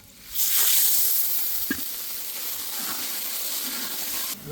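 A cooking pot of water with chopped green chillies comes to the boil, giving a steady hiss and sizzle at moderate volume that rises quickly at the start and cuts off near the end.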